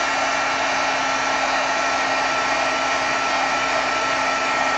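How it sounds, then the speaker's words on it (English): A craft heat tool blows hot air over a paper craft project, giving a loud, constant close-up whooshing roar with a steady motor hum underneath, unbroken for the whole stretch and with no talking. "I have my heat tool. I'm just going to heat this up."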